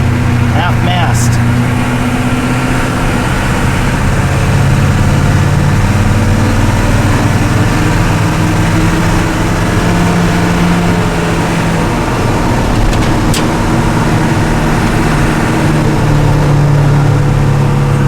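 GM 6.2 diesel engine idling through a new exhaust pipe, a loud steady low rumble that runs evenly throughout, close by, with no break in the sound.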